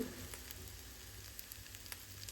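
Prawn curry frying in a pan, a steady close sizzle with faint crackles and occasional soft pops, no voices over it.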